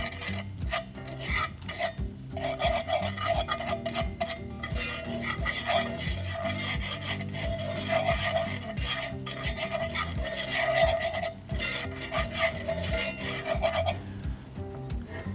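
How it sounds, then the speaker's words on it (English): Seasoned flour is stirred in a pan while it browns for chicken fried steak gravy, a continuous close scraping and rubbing of a utensil against the pan with a faint sizzle underneath. "Just gonna cook this flour until it's brown"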